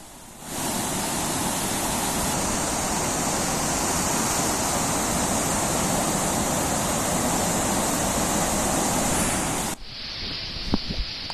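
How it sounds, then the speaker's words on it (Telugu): Floodwater pours from four open gates of the Komaram Bheem project dam after heavy rain, a steady, dense roaring rush heard up close for about nine seconds before cutting off abruptly. "నాలుగు గేట్లు నెత్తి ఒక వెయ్యి తొమ్మిది వందల నలభై ఒక్క క్యూసెక్కుల నీటిని అధికారులు దిగువకు వదులుతున్నారు"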